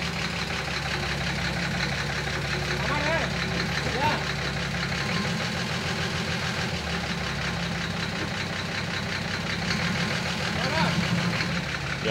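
A Hino KR 300 truck diesel engine idling with a steady low clatter while gears are shifted, accompanied by intermittent mechanical clunks and someone talking throughout.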